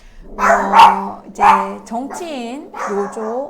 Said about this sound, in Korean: 강아지 소리 정말 죄송합니다.